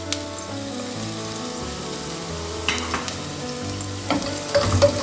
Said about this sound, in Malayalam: പിന്നെ ഇഞ്ചിയും പച്ചമുളകും നുറുക്കി വെച്ച് ഇട്ട് കൊടുക്കാം.